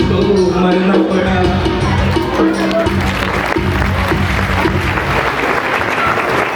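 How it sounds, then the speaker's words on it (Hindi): An audience bursts into loud, dense applause after a Hindi poem recitation, sustained clapping filling the room with a faint voice murmuring underneath. "जोरदार तालियां हो जाए।"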